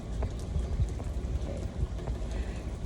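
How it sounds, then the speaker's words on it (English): Rain falls steadily outside in a garden, a dense, even patter with scattered louder drops that continues unbroken throughout. "Raining again. It's raining off and on."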